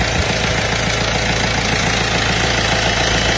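Rebuilt 1.6 HDi diesel engine idling after a general overhaul with a new power gasket kit, a steady, loud, close low rumble with constant vibration and no talk.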